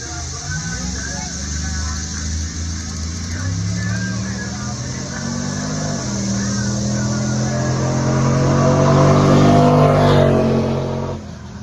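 A truck and a Kia drag race at an NHRA speed-for-all event, engines roaring loud and close with rising pitch through repeated gear shifts, building to a peak before cutting off, with a voice talking over them.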